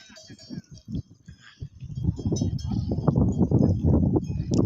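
Native cows at morning grazing, with irregular animal calls and rustling, shuffling movement growing louder and denser toward the end, while people talk nearby.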